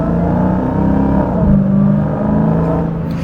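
A 2023 Dodge Challenger Hellcat Jailbreak accelerating with its tires spinning, a loud, close, sustained engine roar with a whirring drone that swells slightly mid-way and holds steady.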